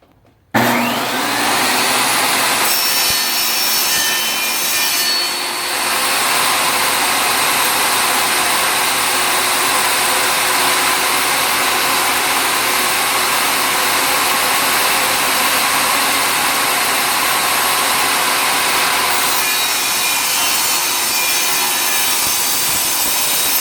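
A power saw cuts through wood for a basic box, its loud continuous whine running almost unbroken for over twenty seconds, then easing near the end.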